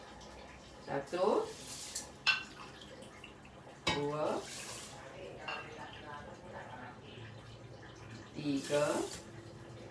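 Water is poured in short splashing bursts into a pot to measure it for cooking rice, with someone talking and counting between the pours in a home kitchen.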